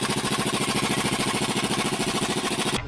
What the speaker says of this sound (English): Time for the impact.